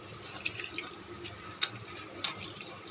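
Tap water running into a bowl while raw water is added to chhena for making flat rasgulla, a faint steady flow with a few small splashes and clinks near the end.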